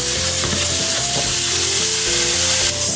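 Sea scallops searing in a hot pan, a steady loud sizzle and crackle of fat running without pause, with faint tonal music underneath and no talking.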